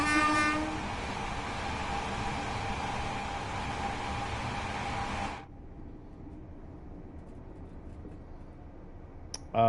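Flying Scotsman steam locomotive running in Train Sim World 4, a loud steady broadband rumble and hiss of the moving train that abruptly drops to a quieter, muffled running noise partway through, with a brief sharp sound near the end.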